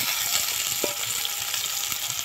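Small potatoes sizzle and fry steadily in hot oil in a pan for an egg curry, a continuous crackling hiss with occasional soft stirring knocks.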